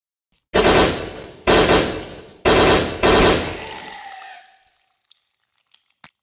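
Gunfire from weapons in the Requisition VR video game: four loud, close bursts of rapid automatic shots, each a few seconds apart and decaying into silence, followed by faint clicks.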